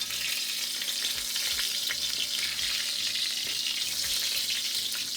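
Cassava bammy made with coconut milk frying in hot oil in a Dutch pot, giving a steady, close, loud sizzle with scattered crackles and pops throughout and no talking.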